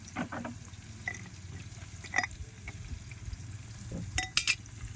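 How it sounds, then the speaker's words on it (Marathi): Onion frying in a pan over a wood- and cow-dung-fired clay stove, a soft crackling sizzle with scattered stirring clinks and scrapes of utensils, fairly quiet. "मस्त जाळ लागलाय लगेच लाल झाला कांदा"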